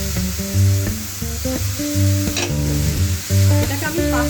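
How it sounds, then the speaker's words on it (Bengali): Eggplant pieces fry with tomato and cheese in a pan, a continuous sizzle under a melodic tune playing alongside. "এটাকে আমি 5 মিনিটের জন্য একটু নাড়াচাড়া করবো"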